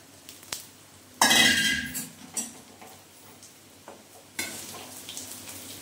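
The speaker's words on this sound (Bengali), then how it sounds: "এই চালের সঙ্গে একটু নাড়াচাড়া করে নেব, তাই গাজরটা আমি দিয়ে দিলাম।" Carrot stirred into rice frying in a pan: a loud scrape and clatter of a spoon against metal, then lighter sizzle and intermittent stirring knocks, close by, without speech.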